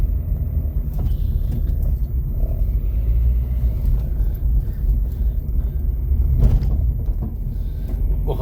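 A car engine labours with a low rumble on a narrow mountain road through a valley toward Pithoragarh, heard from inside the vehicle as a steady, close drone with occasional knocks and rattles.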